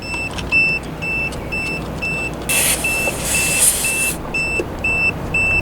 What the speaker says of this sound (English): if you could hear this beep, this is exactly what it'll sound like when you're on the road and you do have a tire blowout